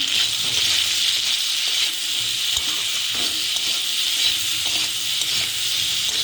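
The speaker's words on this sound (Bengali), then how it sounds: "এই যে একটু নাড়াচাড়া করছি।" Potato and pointed gourd curry sizzles steadily in a pan, with soft scraping stirs breaking through a constant close frying hiss and no talking.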